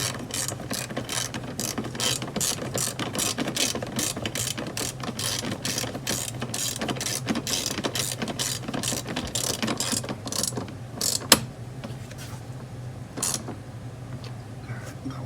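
Rapid, steady clicking of a ratchet wrench tightening an ignition coil bolt on a BMW S85 V10 engine, close and continuous for about eleven seconds before slowing to a few isolated clicks, with no talking.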